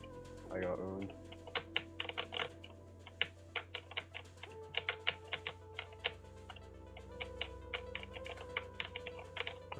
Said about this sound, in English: I hope my keyboard isn't too loud